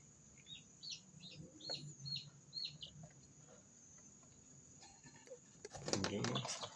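Native village chickens in a brooder cage give faint, scattered high peeps and chirps early on, then a brief louder clatter near the end.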